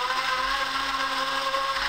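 Moxie blender running on its pulse setting, a close, steady motor whir and blade churn with a slight pulsing throb, loud and continuous with no talking.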